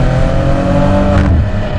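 A Maserati Ghibli with a Ferrari-built V6 pulls hard under acceleration, heard from inside the car as a loud, close, rising engine drone with a steady rasp that eases slightly near the end.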